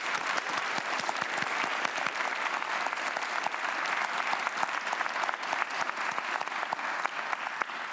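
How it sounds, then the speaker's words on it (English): A packed hall at a Nobel laureates' panel claps steadily for a guest, with even, continuous applause of many hands held at a constant level throughout, and no voices over it. "I think she deserves a round of applause."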